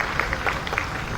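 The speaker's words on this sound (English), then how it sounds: "we need to give them a very big round of applause" Brief crowd applause at a concert event, a busy scatter of claps heard at moderate distance over a dense background.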